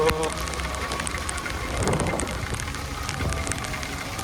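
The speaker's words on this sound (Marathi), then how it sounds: "जोरात पाऊस आहे." Steady, dense hiss of heavy rain pouring down, with a brief swell of louder splashing in the middle and a faint voice beneath.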